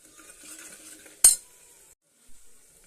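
Onions and tomato paste frying in oil in a home kitchen, a steady soft sizzle with a sharp clatter of a spoon against the pan midway, then a brief quiet and another small scrape.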